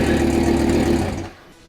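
A damaged, rebuilt Lamborghini engine running roughly and smoking heavily on its left side, a loud uneven drone that holds for about a second, then drops away and fades out.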